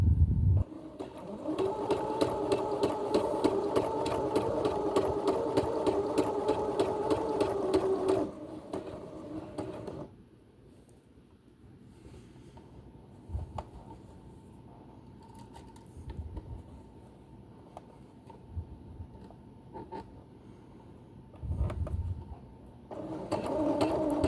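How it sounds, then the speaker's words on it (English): Domestic sewing machine stitching steadily along a seam line while a dress shoulder is altered to fix the bust fit, a loud continuous mechanical whir for about eight seconds, then stopping, followed by quieter handling noises and a brief restart at the end. "So I am sewing along this line here."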